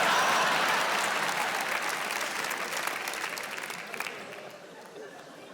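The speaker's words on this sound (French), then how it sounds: "On peut les applaudir." Theatre audience at a comedy stand-up show applauding, a broad wash of many clapping hands that slowly fades and thins toward the end, with a few scattered claps lingering.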